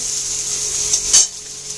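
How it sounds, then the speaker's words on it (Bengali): Egg bhujia with chopped onion and green chili frying in a pan, giving a steady close sizzle with a brief scrape of a utensil near the end. "এখানে আমি এখন ডিম ভুজিয়া করে নেব"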